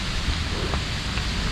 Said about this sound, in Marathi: पानी गिर रहा है यार, उधर से है